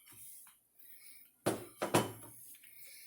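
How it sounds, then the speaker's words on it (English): Raw shrimp dropped into a pot of soup in a home kitchen, a couple of sharp splashy clunks close by against faint background clatter, with no talk. "We're going to add raw shrimp, okay? We're going to just throw those in here."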